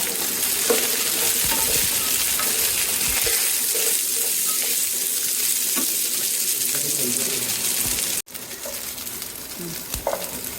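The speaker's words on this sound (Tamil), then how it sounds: "இது கூடவே ஒரு கொத்து கருவேப்பிலையும் சேர்த்து வதக்கிக்கலாம்" Curry leaves sautéing in a hot pan for mutton curry, a steady close sizzle of frying with occasional stirring scrapes throughout, briefly cutting out near the end before resuming.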